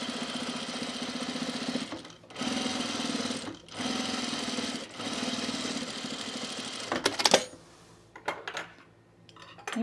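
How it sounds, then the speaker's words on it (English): A home sewing machine runs in long steady whirring bursts while winding a bobbin, pausing briefly between runs, then stopping near the end amid a few clinks and soft handling noises. "Oh, I'm still winding a bobbin. That's why it sounds so heavy."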